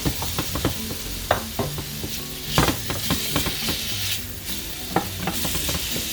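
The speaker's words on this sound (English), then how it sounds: "And then we are going to cook up the beef" Beef cooks in a hot pan with a constant sizzle, broken by repeated spatula clicks and scrapes as the meat is stirred, while music plays in the background.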